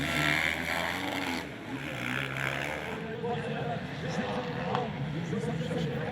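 A KTM motocross bike races at mid-race in an Elite MX event at Romagné, its engine a continuous loud drone with revving swells, mixed with other bikes and talk over the top.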